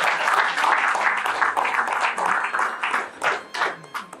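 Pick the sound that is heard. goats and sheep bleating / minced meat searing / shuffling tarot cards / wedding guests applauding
wedding guests applauding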